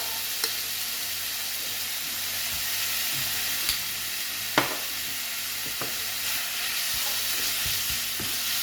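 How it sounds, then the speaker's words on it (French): Ground meat browns in a pan with garlic powder, paprika and salt, a soft steady sizzle with occasional scrapes and clicks of stirring, fairly quiet and close. "Et on fait bien revenir la viande"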